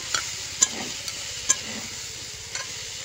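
A spoon mashes and stirs softened dried mango (amsi) in a pan of shol fish sour curry, giving a few light scrapes and taps over a soft, steady simmer with no talking.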